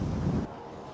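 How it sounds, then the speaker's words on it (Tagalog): Wind rushes and buffets against the microphone in a loud, rough roar that eases slightly after the first half second, on a motorcycle ride to Dingalan, Aurora. "Yung hangin, no?"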